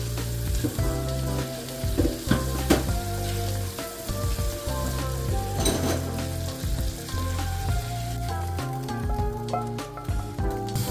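Chopped hot peppers and butter sizzle and crackle in a hot pan while utensils scrape and clatter as they are stirred, loud and close throughout.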